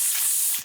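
A voice imitates arterial blood spraying in a gory South Korean action film, giving a close, loud, steady breathy hiss that cuts off abruptly after under a second.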